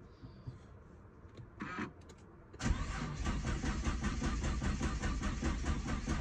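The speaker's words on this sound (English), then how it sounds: "I'm gonna try to start the car. My battery is a little bit low." Nissan GT-R R35 with a low battery being started: a couple of seconds of faint clicks and stirrings, then a loud, steady engine roar that holds until the end.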